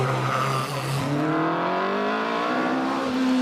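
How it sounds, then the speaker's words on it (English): A race car engine at a hillclimb revs up repeatedly, the pitch climbing and dropping with each quick sequential gear change as it accelerates hard, loud and close. "You can hear the way the engine revs and it goes up the gears."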